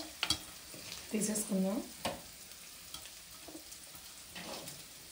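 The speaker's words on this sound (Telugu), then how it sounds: "ఉల్లిపాయలు అవి కూడా బాగా ఫ్రై చేయాలి కదా" Onions fry in a pan with a soft sizzle and a few stirring scrapes, while a voice speaks briefly over the cooking.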